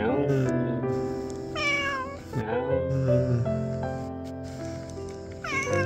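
A pet cat recovering from treatment meows repeatedly up close in a series of drawn-out, pitch-sliding cries, while a person talks gently over and between the calls.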